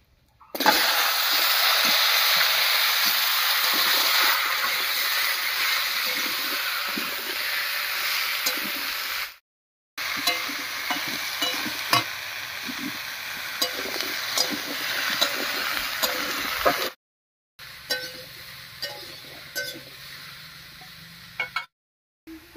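Cut bottle gourd sizzles loudly and steadily in oil seasoned with cumin seeds and bay leaf, with scattered stirring clicks and two brief silent breaks.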